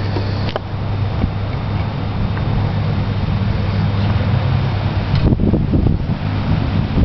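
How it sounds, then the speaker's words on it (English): Wind blows steadily across an outdoor archery range, a constant rushing buffet against the microphone with a low droning hum underneath and some gusty rustling near the end, with no talking. "looks like the wind's disagreeing with me."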